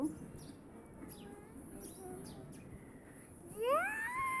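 Birds chirp and call softly in the background, with a brighter rising whistle near the end over a faint outdoor hush.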